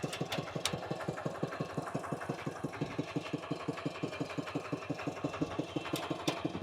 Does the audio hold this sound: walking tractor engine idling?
yes